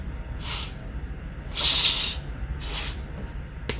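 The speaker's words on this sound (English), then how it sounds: "take that same WD-40 and, as best I can, clean out the other side of this on the blower motor itself" WD-40 aerosol sprayed onto a BMW Z3 blower motor to clean it, three short hissing bursts, the middle one longest and loudest, over a low background rumble.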